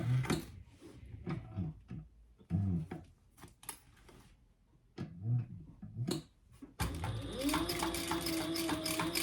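Sewing machine stitching back over earlier stitching on a sewn tag-along, with quiet handling and shuffling noises first, then the motor running steadily and fairly close for the last couple of seconds.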